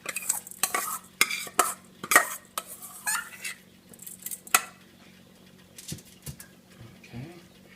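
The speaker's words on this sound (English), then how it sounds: "Then you take it and you just mix it around." A large pot of rice with pigeon peas, about four cups of rice, stirred with a utensil that scrapes and clinks against the pot in uneven bursts, close and fairly soft.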